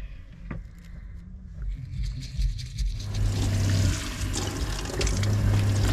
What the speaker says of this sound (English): That water is so cold.